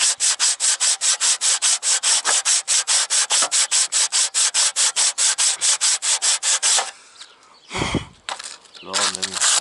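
Fast rhythmic scraping on a metal electrical contact of a Citroën Acadiane, dozens of even back-and-forth strokes, close and loud, stopping before a few clunks and a brief voice.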